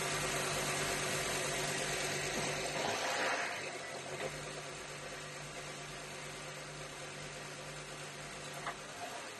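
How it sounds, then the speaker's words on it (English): A Honda Odyssey's J35 V6 engine runs after an engine mount replacement, giving a steady, low mechanical hum with a constant drone. The sound drops slightly in level partway through, and no one talks. "And we are ready to test the engine."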